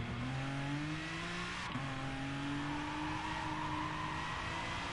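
Race car in the GT Sport video game braking hard into a hairpin in second gear, then accelerating, with a steady loud engine drone whose pitch drops sharply under braking before climbing again, plus faint tire noise.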